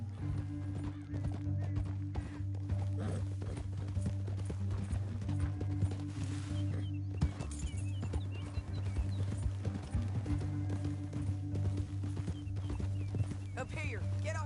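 Horses galloping in Red Dead Redemption 2, a continuous rhythmic clip-clop of hooves with an occasional whinny, steady and moderately loud beneath people talking.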